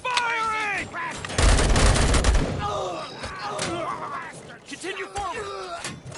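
Gunfire in RoboCop: Rogue City, a dense burst of rapid shots mixed with shouted voices, loud and close amid ongoing combat noise.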